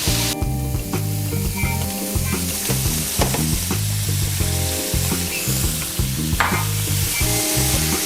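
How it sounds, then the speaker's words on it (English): Chopped onion and garlic fry loudly in a pan for creamy Parmesan pasta, a close, continuous sizzle with stirring scrapes throughout and no voices. "I'm gonna toss in a couple of tablespoons of chopped onion. And then in go all that garlic that we just chopped, right in there."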